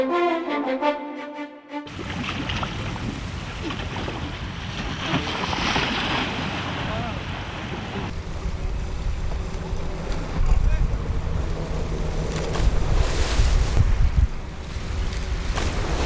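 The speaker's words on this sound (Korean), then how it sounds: "파도는 거셌지만" Rough sea waves churn around a boat off Munseom island near Jeju, a continuous loud wash with gusting wind buffeting the microphone, no voices.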